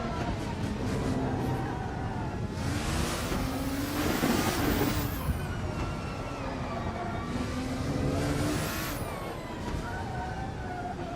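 Race cars in the Formula Hololive racing video game drone continuously with engines rising and falling as they accelerate and pass, a steady loud roar with no talk over it.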